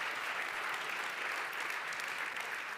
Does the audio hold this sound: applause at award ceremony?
yes